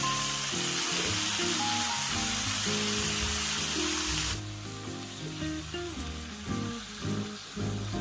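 Steady hissing sizzle of chadol beef brisket and seasoned vegetable side dishes grilling in a hot pan, constant and close, with soft background music and the sizzle easing partway through.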